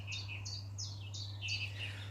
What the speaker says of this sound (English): there's a chiff-chaff singing from this bush just up here